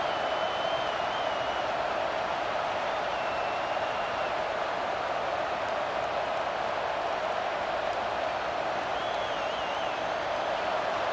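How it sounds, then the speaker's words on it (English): A stadium crowd in College Football 26 roars in a dense, steady wall of noise that stays constant throughout, with faint whistles over the top. "And the crowd coming to life here, trying to help this defense down in the red zone"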